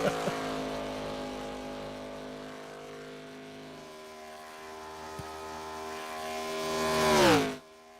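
An ARCA Series stock race car engine at Daytona screams past at high revs, pitch climbing steadily to a loud peak before abruptly cutting off, with no talking.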